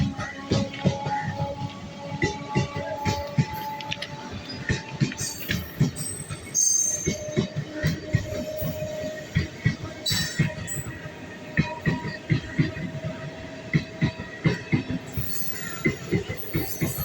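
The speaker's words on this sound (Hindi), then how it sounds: "कानपुर से चलकर लखनऊ चारबाग जाने वाली जो मेमू ट्रेन है वो देखिए जा रही है" MEMU passenger train running from Kanpur to Lucknow Charbagh, rolling past on the rails with steady rumble, repeated wheel clicks over rail joints and occasional squeals, close and continuous throughout.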